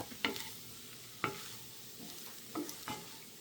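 A spoon scrapes and stirs spicy cauliflower rice in a pan over a low flame, three or four distinct close knocks and scrapes against a faint background sizzle.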